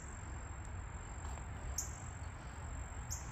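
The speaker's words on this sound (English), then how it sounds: "The biodiversity of the animals and bugs out here is absolutely crazy." Crickets and other insects chirp outdoors in the countryside, a steady faint trilling chorus throughout, with a few brief sharper chirps standing out now and then.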